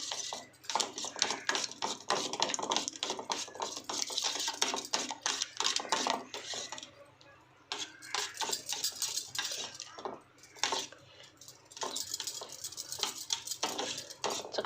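Beaten eggs whisked in a bowl for an omelette, with a steady rapid clatter of utensil against the dish, close and fairly loud, pausing briefly midway before resuming.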